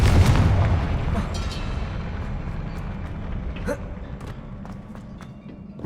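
A Confringo blast spell in Hogwarts Legacy lands as a heavy booming explosion at the start, its rumble fading over several seconds beneath scattered game effects and a shouted voice.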